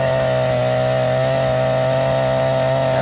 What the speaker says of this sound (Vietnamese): khi mà ga máy khoan rất là ngọt và chạy đều